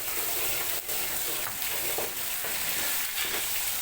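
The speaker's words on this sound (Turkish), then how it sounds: "Şöyle çok az bir salçayı bu köftelerin yağında kızartacağım." Steady loud sizzling of tomato paste frying in meatball oil, with a few soft stirring scrapes breaking through the continuous crackle.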